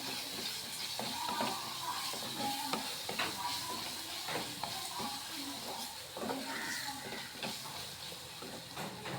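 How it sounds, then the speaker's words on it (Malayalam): Ingredients being stirred and mixed while frying in a pan, a continuous close sizzle broken by repeated scraping and clattering strokes of the spoon. "എന്നിട്ട് അതെല്ലാം കൂടി ഒന്നുകൂടി യോജിപ്പിക്കുക."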